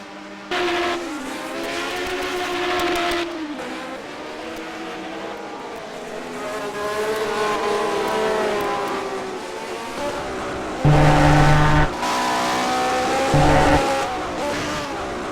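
Historic Lotus race car at the 2019 HSO Gold Star round in Argentina, engine revving hard and shifting through gears, with brief tire squeals as it slides, loud and close throughout.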